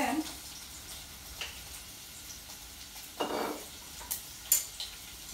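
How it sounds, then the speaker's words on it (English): Rice being stirred as it fries in olive oil in a pot on a gas stove, with a soft sizzle, scattered scrapes and clinks of a spoon against the pot, and a few brief background sounds. "You stir this when it turns brown"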